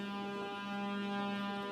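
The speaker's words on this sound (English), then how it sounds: "we got a train horn coming up, so maybe I'll save my point for a moment until this train passes." Horn of a passing train near the town limits of Darmstadt, Indiana, heard as a steady sustained multi-tone blast, fairly faint and distant, with no talking over it.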